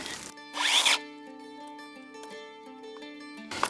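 Mellif 40V battery chainsaw cutting through maple: a steady electric motor whine runs throughout, with a brief, rougher burst of the chain biting into the wood near the start.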